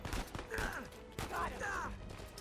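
Enemy gunfire cracks in the video game Uncharted 4 during a firefight, with a few sharp shots and impacts mixed into busy game noise, some metallic and whistling effects.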